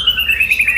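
White-rumped shama, or murai batu, at a bird market, singing a brief bright whistled phrase close by and fairly loud, with no talk over it.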